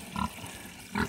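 A farm pig grunts twice in a muddy yard during mud season, short low snorts spaced about a second apart, close and fairly quiet.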